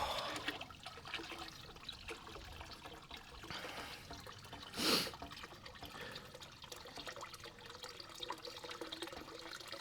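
Water trickles and pours steadily during a water change in a medaka fish tank, a soft continuous splashing with one brief louder gush midway and no talking.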